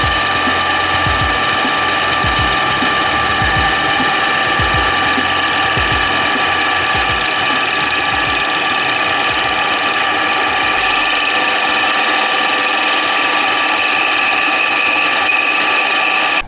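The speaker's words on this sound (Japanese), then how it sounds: "旋盤で削って径を合わせる" A metal lathe turns down a 2 mm steel washer for a Kawasaki D-Tracker fork collar, a constant motor whine with rhythmic ticking cuts early on, then a smoother steady hum as the tool runs on.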